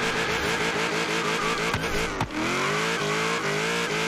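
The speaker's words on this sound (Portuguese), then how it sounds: "Ih, olha o Audi R8 branquinho lá falando" A white Audi R8 launches hard in a street drag race, its engine roaring loud and close with rising revs, a brief tire chirp and a gear shift mid-pull before climbing again.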